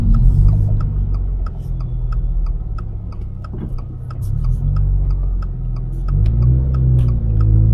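Toyota GR86 driving, its engine a steady close droning rumble throughout with slight shifts in pitch, while faint regular ticking, like a turn signal, clicks along over it.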